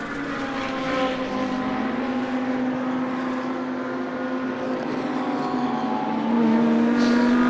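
A GT2 racing car pulls away down the pit lane at Paul Ricard, its engine droning loud and steady, then rising in pitch as it accelerates near the end.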